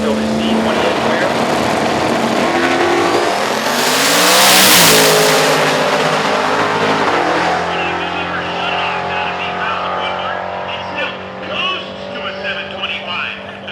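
Drag cars launch down a quarter-mile strip, a Camaro among them, with a roaring engine surge that peaks loud mid-run and then fades as the car pulls away, while an announcer talks over it.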